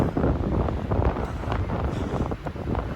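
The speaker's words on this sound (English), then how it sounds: "windy up here today" Steady wind buffeting a microphone outdoors before a heavy snowstorm, a loud continuous rumbling roar with gusty surges throughout.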